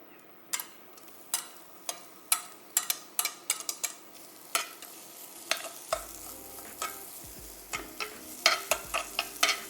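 Onions fry on a home cooktop with a soft, steady sizzle, while a utensil stirs and scrapes the pan in quick, irregular clicks and taps close by; no one speaks.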